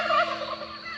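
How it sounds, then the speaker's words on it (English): A young rooster's brief, strained crow, a short wavering squawk rather than a full call, heard nearby. "It's one of the new roosters trying to crow."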